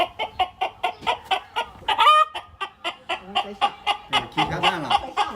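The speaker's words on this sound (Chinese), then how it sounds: "母鸡朋友们啊要下蛋了，声音要变了啊" A hen about to lay an egg clucks in quick, regular, close bursts, then breaks into a drawn-out, rising squawk partway through before the rhythmic clucking resumes.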